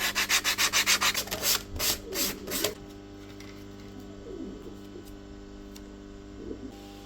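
A sanding block bevels the edges of wooden parts for an RC boat hull in a rapid series of about a dozen rhythmic rasping strokes, close and clear, followed by quieter scattered rubbing and light taps.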